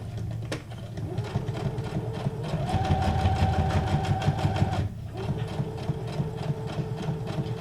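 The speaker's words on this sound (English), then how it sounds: "this is a Brother SQ9185 computerized sewing machine" A Brother SQ9185 computerized sewing machine runs a straight stitch in steady rapid bursts, close and loud, with a brief pause near the middle before the stitching resumes.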